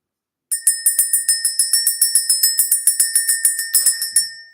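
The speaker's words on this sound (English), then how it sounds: "We're going to ring that bell." A small bell rung to clear energy, struck in a quick, even series of about twenty bright metallic rings, each with a short decay, close and clear with nothing else heard.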